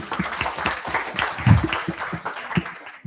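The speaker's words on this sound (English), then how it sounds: "Can we have a huge round of applause for JF27?" Audience applause at a live school event on stage, a 'Literature Meets Mathematics' day, rising to a brief peak midway and continuing steadily for about three seconds.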